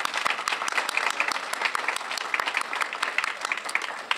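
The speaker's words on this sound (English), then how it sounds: "So how about a round of applause for them?" Applause at an employee recognition ceremony, a crowd clapping steadily, dense clapping at an even level throughout, close and fairly loud with no speech over it.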